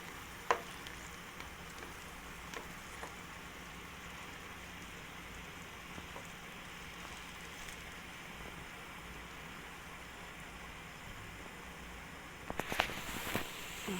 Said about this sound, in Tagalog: Habang pinapakuluan,